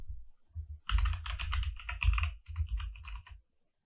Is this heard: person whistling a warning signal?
no